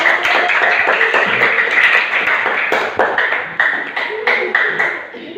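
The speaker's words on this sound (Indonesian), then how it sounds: "Tepuk tangannya dong" A small classroom group applauding, a burst of quick clapping at close range that gradually thins into scattered claps, with a few voices chattering over it.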